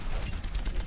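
Rapid automatic gunfire from Soldier 76's rifle in the video game Overwatch rattles as a dense, continuous burst of loud shots across the whole short moment.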